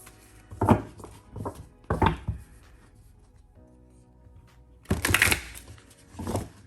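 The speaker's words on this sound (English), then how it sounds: "Nah, and then riffle shuffling." Oracle card deck being riffle shuffled, with two quick papery riffling bursts early on, a quiet pause, then a louder riffle and a final softer one, close up and with no talking.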